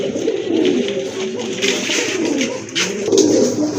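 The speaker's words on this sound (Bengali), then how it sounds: "আরেক জোড়া কবুতর চলে আসছে গেল" Pigeons of mixed breeds for sale, including Tailmark pigeons, coo steadily at close range in low repeated throaty rolls that overlap throughout.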